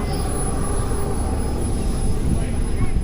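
Model jet aircraft flying at an r/c warbird air show in Delaware, a steady loud roaring rush throughout with a high whine on top, with speech faintly present.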